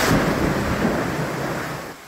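Steady heavy rain roars over Metro Manila with a low rumble of thunder underneath, a dense continuous wash of noise that eases slightly at the end.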